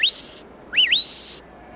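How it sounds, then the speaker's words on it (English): A shepherd's whistled commands to herding dogs: two sharp, loud whistles, the first rising and held, the second swooping down and back up before holding steady, clear and close with no talking. "The shepherds command the dogs with words or by whistling."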